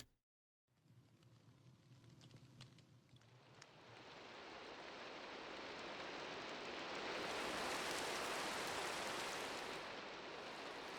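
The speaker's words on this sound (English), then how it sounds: "The rain sounds coming through." Steady rain in the Minecraft game, a broad hiss that swells gradually from faint to fairly full and stays constant, with no voices.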